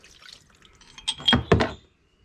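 Fuel from a VW Golf high-pressure fuel pump job is poured from a roughly 300 ml container into another vessel, giving two short splashing gurgles close by, with faint handling noise before them.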